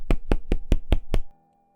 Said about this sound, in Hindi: अगले दिन सुबह सुबह दरवाजे पर दस्तक हुई।